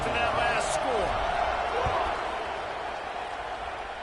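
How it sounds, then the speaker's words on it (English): Football stadium crowd cheering and buzzing after a touchdown at a college game, a dense roar that stays loud throughout, with a faint announcer's voice in the mix. "this crowd is buzzing after that last score"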